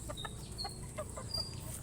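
A chicken clucks in quick, soft repeated calls, faint and somewhat distant over a low background hum.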